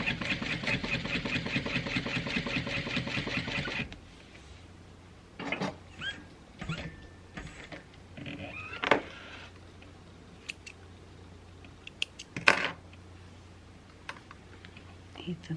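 Juki 1181 industrial sewing machine stitching a Koda bag at an eighth-inch seam, a steady loud mechanical whir for several seconds, then it stops and quieter handling clicks and rustles follow.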